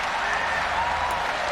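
Stadium crowd in the video game Madden NFL 20 roaring in a continuous loud, hissing wash of cheers and applause from a home-field crowd, steady throughout the short clip.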